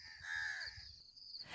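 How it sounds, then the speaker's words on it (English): An audio recorder plays a crow call: a harsh, drawn-out caw, then a brief gap and the start of another call, moderately loud and close. "We got the crow noises."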